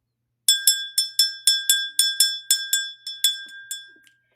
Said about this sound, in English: If you're familiar, you know I love to ring the bell.